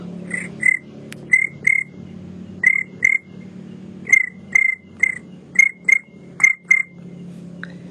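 A voice imitating cricket chirps: paired high chirps repeated in a steady rhythm over a low background hum, close and clear.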